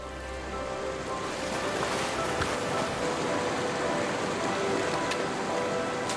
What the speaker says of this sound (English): The water carves its way through the desert.